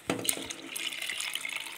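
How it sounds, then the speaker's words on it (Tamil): Coconut milk is poured into rice for mutton biryani, giving a soft, quiet liquid trickle and splash with a faint clink at the start, heard close and alone. "2 கப் அளவுக்கு மட்டுமே வந்து தேங்காய் பால் வந்து சேர்த்துக்கலாம் இப்போ இன்னொரு கப் வந்து சேர்த்துக்கலாம்"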